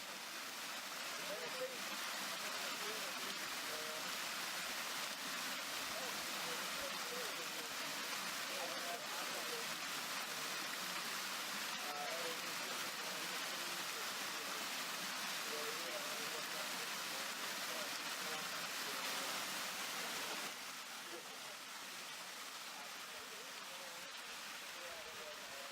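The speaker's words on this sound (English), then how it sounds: "With the waterfall crashing in front of" A waterfall at Grayson Lake, Kentucky crashes with a steady, dense rushing roar that holds constant and eases slightly toward the end.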